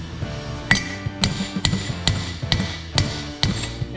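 Sharp metallic hammer blows drive a wheel bearing into place on a 2002 Ford Ranger, striking repeatedly at an uneven but steady pace, loud and close, each hit ringing briefly against metal.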